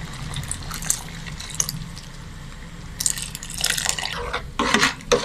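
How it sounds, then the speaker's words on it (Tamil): Milk is poured into a pot of boiling chana dal payasam, a sweet Tamil pudding made with split Bengal gram, giving soft liquid splashing and bubbling with a few clinks, growing louder toward the end. "இப்போ நாம மொத எடுத்து வச்சிருந்த பாலை ஊற்றிக்கலாம்."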